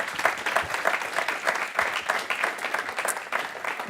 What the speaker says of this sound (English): One more applause for Elliott.